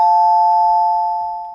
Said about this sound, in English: the bell produces a loud alarm of around 100 decibels